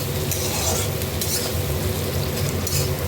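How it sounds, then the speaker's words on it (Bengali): A very large chopped onion sizzles steadily in a hot pan while a spoon stirs it with light scraping clinks, the first step of a Bengali tangra fish curry with potato and eggplant; no talking. "যে পেঁয়াজ দিয়ে দিলাম, দিয়ে এবার একটু ওটা ভেজে নেব"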